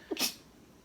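A single short, sharp sneeze close by, with a quick intake just before it, over a quiet room.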